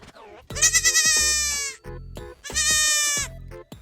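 Two loud, wavering goat bleats imitated by people during a toddlers' class, close and drawn out, separated by a short pause.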